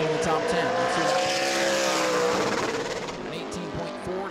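Super late model race car screaming past on a qualifying lap at New Smyrna, a loud engine whine that sweeps down in pitch as it passes and fades, with an announcer talking over it.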